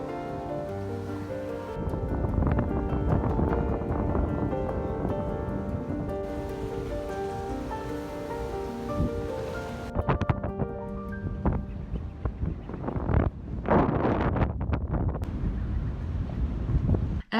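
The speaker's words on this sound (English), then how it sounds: "After I wandered on the very windy promenade" Strong wind buffets a microphone on a seaside promenade, a loud, steady roar with gusty swells and rustling, likely mixed with distant surf, continuing without a break and with no voices.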